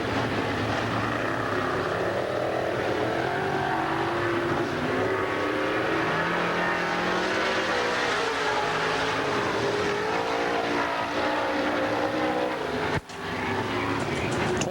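Stock cars race a lap around a short-track speedway, a dense, continuous engine roar with shifting pitch as the field passes, loud throughout and briefly cut near the end.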